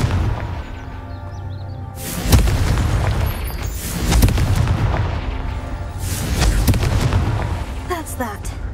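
A blasting spell cast in a Hogwarts video game sets off several loud booming explosions, spaced a couple of seconds apart, over a rumbling background with a voice heard briefly.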